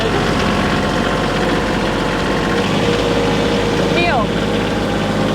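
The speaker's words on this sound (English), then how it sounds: "You're now driving a manual tractor." A KIOTI tractor with a manual transmission runs with a steady, close diesel drone and a constant low rumble, joined by a brief whistling sweep near the end.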